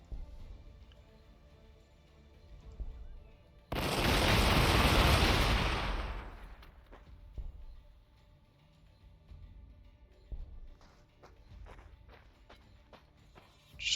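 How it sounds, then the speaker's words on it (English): A Chaos Space Marines Hellbrute walker in Warhammer 40,000: Gladius – Relics of War lets out a loud, heavy rumbling burst lasting about two seconds. Scattered softer thuds and clanks follow against a quiet game background. "I could hear him stomping around."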